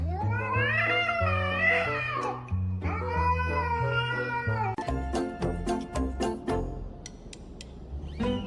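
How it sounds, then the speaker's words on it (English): Two cats fighting, with drawn-out, rising and falling yowls and caterwauls that turn into sharp, broken hisses and spits toward the end, loud and close. "Two cats fighting"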